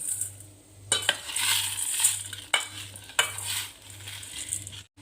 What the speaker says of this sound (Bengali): এই পর্যায়ে আমি চিনি নিয়েছি, চিনিটা মিশিয়ে দিচ্ছি